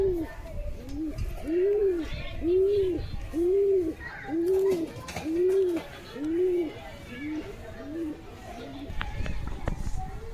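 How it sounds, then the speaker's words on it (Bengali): A pair of Lily Matraj pigeons coo close by in a rhythmic run of about nine soft, regular calls over faint background noise. "এই হচ্ছে এক জোড়া লিলি ম্যাট্রাস কবুতর"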